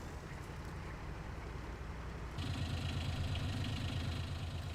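Tractor engine idling in Farming Simulator 19, a John Deere 6120R hitched to a Kuhn mixer: a steady low rumbling hum that turns louder and richer partway through, with no talk.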